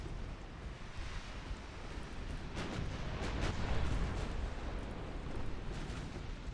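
Naval gunfire from warships in Ultimate Admiral Dreadnoughts rumbles as a dense, continuous roar of distant booming shots and blasts over a steady wash of sea and wind, with no voices.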